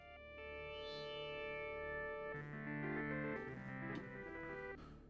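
A synthesizer ladder filter with a resonance control rings into self-oscillation, producing sustained bright pitched tones and stacked harmonics that shift in pitch midway, fairly faint and with no talking over it.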